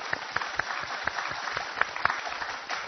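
Studio audience applauding on a Chinese television talk show, a steady wash of clapping at moderate level with a few sharper individual claps standing out.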